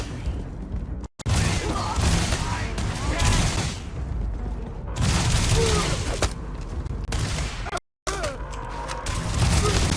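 Rapid gunfire and booming blasts from an EM rifle in a video game fight, with loud sustained volleys broken by two brief silent gaps and some shouting mixed in.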